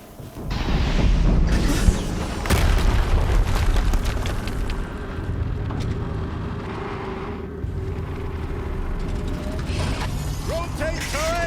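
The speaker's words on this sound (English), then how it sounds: "Another explosion." Explosions rumble through a Horizon Zero Dawn gameplay scene, with heavy booms and a loud sustained roar of blasts and machinery, plus some voices and a few sharper bursts later on.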